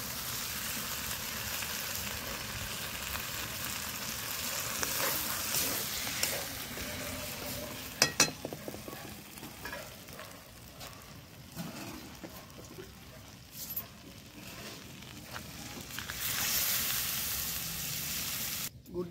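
Golden browned chicken pieces sizzling and frying in a pan just after water is poured in, a loud, continuous hiss with crackling bursts and stirring noises, no talk.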